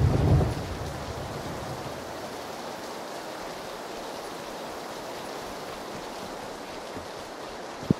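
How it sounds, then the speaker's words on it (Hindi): Rain and thunder in a video game, with steady hissing rainfall throughout after a low rumble at the start and a sharp tap near the end, heard alone. "ये बारिश गिर रहा है"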